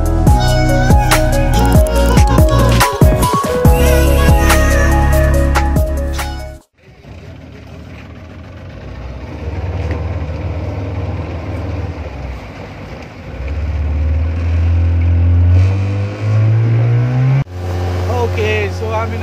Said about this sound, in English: Okay, so I'm in a speedboat.